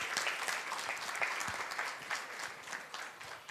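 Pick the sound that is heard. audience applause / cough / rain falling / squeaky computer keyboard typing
audience applause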